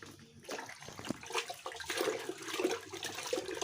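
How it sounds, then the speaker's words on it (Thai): Molasses poured into a 20-liter water bucket while preparing EM fermented liquid from vegetable and fruit scraps, giving a steady watery trickle and splash at close range. "เดี๋ยวผมก็จะเอากากน้ำตาลเทใส่ลงไปเลยนะครับ"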